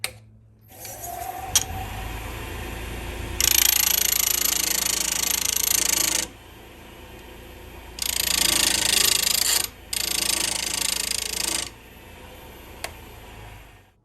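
A turning tool is sharpened against a grinding surface set up on a variable speed lathe, with loud bursts of harsh grinding a few seconds long, separated by quieter stretches where the machine keeps running.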